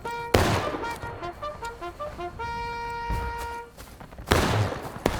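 Musket volleys crack out in the Civil War game War of Rights: a sharp ragged fusillade, a second burst, then another loud close volley, with a tonal musical line sounding between the shots.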